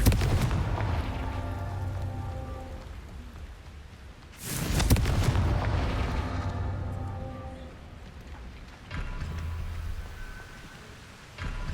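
Confringo blasting spell cast in Hogwarts Legacy, sharp explosive bursts with booming low rumble, one strong blast midway and a smaller one later, over continuous game ambience.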